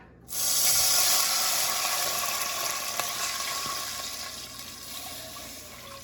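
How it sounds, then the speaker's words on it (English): Water poured from a tap into a heating cooking pot for white rice, a sudden loud hissing splash that continues steadily and gradually eases, with a few faint clinks. "what I'm gonna go ahead and do is I'm gonna add my water to the pot."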